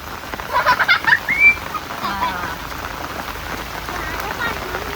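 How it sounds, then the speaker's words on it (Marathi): Heavy rain falls outdoors as a steady hiss across the whole stretch, with people talking over it and a few fowl calls nearby. "पाऊस वाढायला लागलाय"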